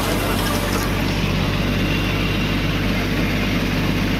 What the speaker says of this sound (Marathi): मॅसी फर्ग्युसन 6028 ट्रॅक्टर आहे